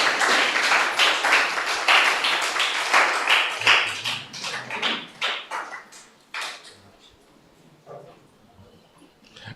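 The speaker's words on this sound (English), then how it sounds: "you could give them a round of applause" An audience of children and adults at a summer program closing ceremony claps in a burst of applause that starts full and lively and then thins to scattered claps as it fades out.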